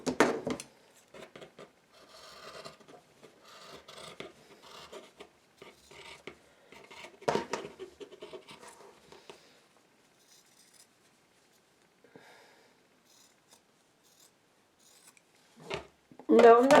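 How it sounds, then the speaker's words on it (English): Scissors snipping through apron fabric in a sewing setup, a few short crisp cuts spread over the clip, close and moderately loud, with a person talking quietly between them. "Okay, so we'll cut a little more."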